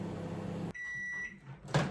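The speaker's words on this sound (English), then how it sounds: "Now the microwave's dinged," A microwave oven finishes heating a jam recipe in a kitchen, its hum cutting off, followed by a single clear ding and a soft clunk of the door.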